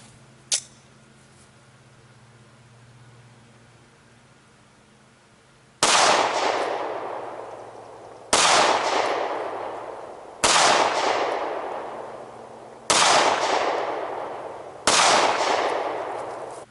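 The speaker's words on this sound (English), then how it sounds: "The Remington shot the Jesse James ammo at a group of 3 inches" Remington R51 9mm pistol firing Jesse James full metal jacket rounds: five loud, sharp shots spaced a couple of seconds apart, each with a ringing decay, after a long quiet lead-in with one small click.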